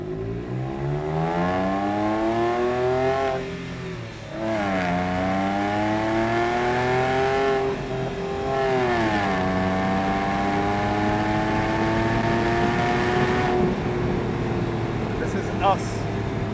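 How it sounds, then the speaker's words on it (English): Porsche 911 997.1 Carrera 4S with Tiptronic transmission accelerates hard. Its engine note climbs steadily in pitch, dips at each gear change and climbs again, loud and continuous, across several shifts. "this is just to kind of illustrate me giving it a good push, getting you to appreciate the sound"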